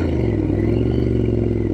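A 2006 Triumph Scrambler 900 runs steadily under way, its engine a close, continuous low rumble with an even throb and some mechanical clatter, holding a fairly constant pace with no speech.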